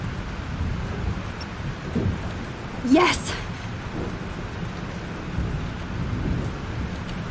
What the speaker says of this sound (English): This storm is real.